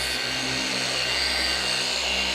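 An entry-level G80 car polisher runs at a steady, continuous whirring hum, close and even throughout, with no voices.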